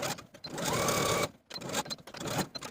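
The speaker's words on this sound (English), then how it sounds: "Edge stitch all the way around all of the edges for both loops with an 1/8 inch seam allowance." A sewing machine edge stitches fabric towel loops for an apron with a narrow seam allowance, running in two close, steady bursts with a brief pause between them.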